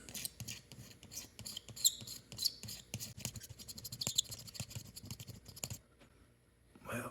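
A razor blade scrapes dried repair resin off a car windshield in short, rapid strokes, producing a close, gritty rasping that falls quiet near the end before one last scrape.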